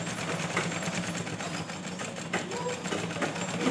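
A sewing machine stitches blouse fabric in a continuous, even hum with a fast, faint rhythmic texture, running throughout without pause and without talk.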